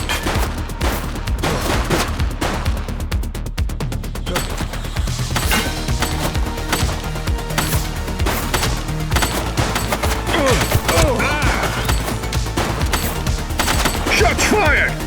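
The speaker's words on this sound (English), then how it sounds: "Shots fired!" Gunfire in the police game The Precinct, loud rapid bursts and scattered single shots rattling almost nonstop, with shouted voices mixed in.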